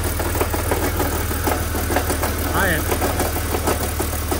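A car engine idles steadily with a faint repetitive knocking from a suspected harmonic balancer fault, heard up close under a man's brief speech.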